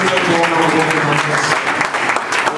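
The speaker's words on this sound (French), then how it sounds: "Acclamons très fort pour le grand Dieu." A church congregation applauding and cheering together at a worship service in Congo-Brazzaville, a steady, loud wash of clapping that fills the whole moment with a few voices mixed into it.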